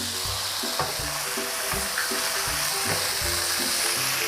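Glass noodles and vegetables stir-fry in a pan, a dense steady sizzle overlaid with rhythmic clanks and scrapes of a spatula against the pan, up close with no talking.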